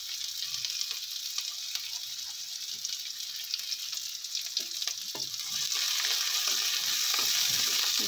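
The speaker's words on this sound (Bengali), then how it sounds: "এরপর দিয়ে দিচ্ছি কুচিয়ে রাখা পেঁয়াজ, আর রসুন কুচিটাও দিয়ে দেব।" Chopped onion and garlic frying in a pan, giving a constant bright sizzle with occasional stirring scrapes. The hiss swells noticeably louder partway through and holds close and steady.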